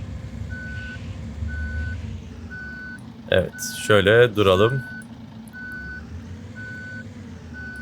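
A bus's steady electronic reversing beep in a video game repeats at an even pace over a low engine hum, briefly interrupted by a person speaking.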